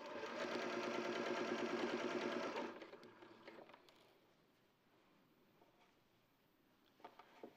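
Sewing machine stitching a fabric seam at a 1.5 seam allowance, a dense steady whirring run for under three seconds, then stopping into quiet handling noises and faint clicks.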